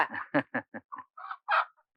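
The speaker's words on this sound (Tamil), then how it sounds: "என்ன கோழியெல்லாம் வாங்கிட்டு வந்திருக்காரு?" Chickens cluck in a short run of separate, fairly close calls, a string of choppy bursts ending in a louder squawk, with no speech over them.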